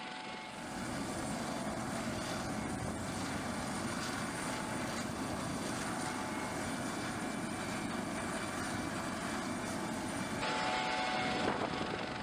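A medevac helicopter flies steadily overhead, its engine and rotor making a constant broad roar at moderate distance, with no voices.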